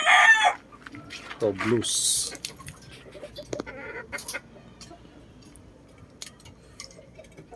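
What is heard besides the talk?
bulik rooster crowing and clucking in backyard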